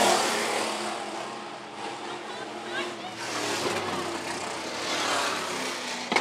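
Sprint cars race nose to tail down the front straightaway of a dirt oval at Phillips County Raceway, a loud droning engine roar that swells and eases, with an announcer talking over it.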